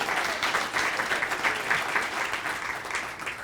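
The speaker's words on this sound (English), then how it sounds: "So let's just give her another round of applause." Steady audience applause at a school board or school recognition event, dense clapping from a room full of people that carries evenly throughout without a break.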